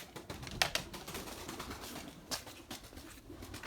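Pigeons coo close by near a loft during a mixed flock flight, with soft continuous murmuring and a couple of sharper calls over a steady outdoor background.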